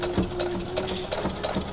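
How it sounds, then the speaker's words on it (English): A sewing machine runs up close stitching fabric bunting, a quick steady rattle of needle strokes with no talking. "Put this up under your sewing machine and just kind of sew that together"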